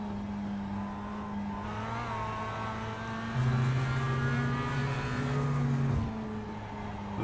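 A Mazda MX5 on the Green Hell circuit holds a steady engine drone from inside the car, its pitch rising and falling smoothly through gear changes, loud and continuous with no voices.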